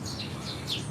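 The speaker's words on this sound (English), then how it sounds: "Man, these birds are loud." Birds chirp loudly outdoors in the Philippines, with bright repeated tweets over a steady low background hum, and no talking.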